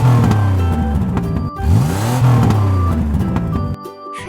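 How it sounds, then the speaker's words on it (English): A racing car engine revs hard and loud, its pitch sweeping up and falling away twice in a throaty whine before dropping off sharply near the end. "Racing car."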